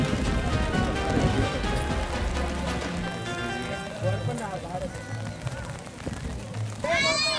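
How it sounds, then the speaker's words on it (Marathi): Rain falls at night during a goddess immersion procession: a steady, loud hiss of drops runs throughout, with voices and crowd noise mixed in. "होतोय पाऊस."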